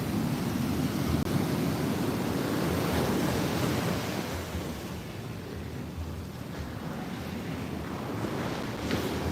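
Stormy sea in bad weather at Muaro Bayang beach, Bayang district, Pessel: a continuous loud roar of crashing surf with steady wind noise buffeting the microphone, with no break throughout.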